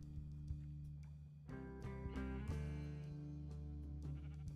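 Sheep on a sheep farm in a video game bleat in a few quiet, wavering calls over a soft steady background, with no talking.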